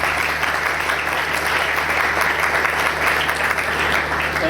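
Sustained applause from a church congregation during a Sunday service, dense steady clapping filling the room for several seconds with no voices over it.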